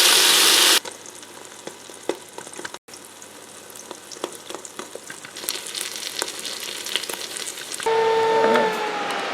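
Bacon searing in a Ninja Foodi pot, a continuous close crackling sizzle with scattered pops and small clicks, rising louder toward the end, no voices.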